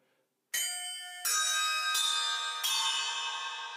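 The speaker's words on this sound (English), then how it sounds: "I have inverted cup chimes over the top of them." Four bright metallic strikes on Paiste inverted cup chimes, sized 5 to 8 inches, ring out one after another, each adding to a shimmering, sustained bell-like ring.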